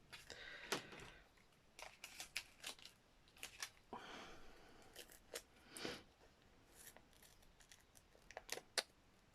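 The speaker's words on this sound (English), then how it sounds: "These are supposed to be non-stick scissors." Non-stick scissors snip through double-sided tape during fabric collage crafting, giving a string of short, crisp cutting clicks and rasps at irregular intervals, fairly close and quiet, with no talking.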